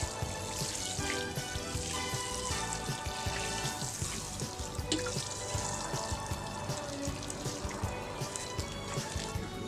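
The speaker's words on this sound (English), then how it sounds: "I'm gonna water my potatoes now" Freshly planted potatoes being watered in a garden bed, giving a steady, continuous splashing pour of water on soil and leaves that stays even and close throughout, with no talking.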